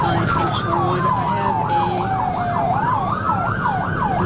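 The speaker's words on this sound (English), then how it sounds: "The pursuit continued as officers activated their sirens and stayed close behind the suspect." Wailing police siren on a car in a high-speed pursuit, loud and close, sweeping up and down in fast repeating cycles over steady road and engine noise.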